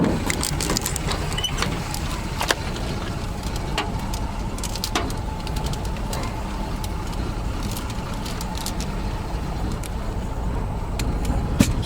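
Exhaust of a 1979 Chevy G20 van idling low with a surging problem, a steady close rumble with broadband noise, faint uneven pulsing and occasional clicks throughout.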